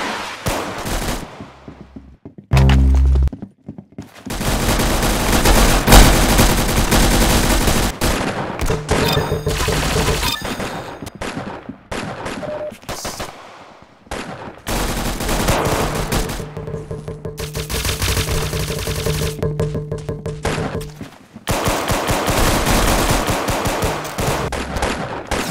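Sustained gunfire in the Roblox shooter Arsenal rattles loudly in long automatic bursts, separated by a few short gaps and one heavy thump near the start.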